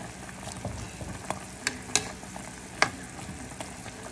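Chili leaves and moringa leaves cooking in a pan, a steady close sizzle and frying hiss with a few sharp clinks of stirring.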